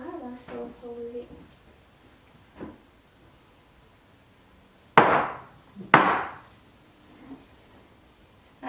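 Two sharp hammer strikes land about a second apart during a training session, loud and close. Faint talk and a few lighter knocks come before and after them.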